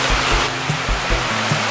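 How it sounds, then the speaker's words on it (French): Small river rushing steadily, a dense close wash of flowing water with faint low rhythmic thumps beneath, no voices. "La petite rivière."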